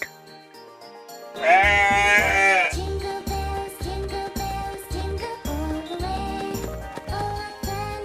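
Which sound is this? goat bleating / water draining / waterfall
goat bleating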